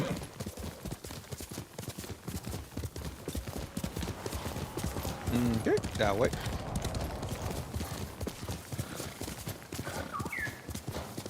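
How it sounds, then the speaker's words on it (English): Horse hooves clip-clop steadily in a video game, joined midway by a whinny, while a person talks over the hoofbeats throughout. "You're a good horse."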